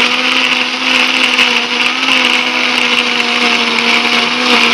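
An electric blender grinds curly chilies, shallots, garlic and coriander seeds into a paste, a loud steady whirring motor drone with no pauses.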